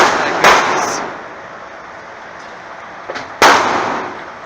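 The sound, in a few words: Magnum Research Desert Eagle pistol gunshot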